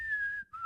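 Someone whistles a brief snatch of the Titanic theme, a clear sustained note sliding gently before dropping to a lower held tone, with no other sound.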